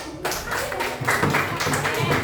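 Clapping in a classroom for a student group, a dense burst of many hands, fairly loud and close, starting after a brief pause and continuing steadily.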